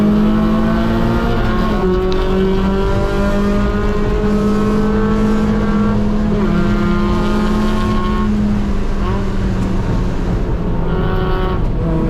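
A Mazda Miata race car laps GingerMan track, its engine droning loud and close, with rising and falling revs through gear changes and no one talking.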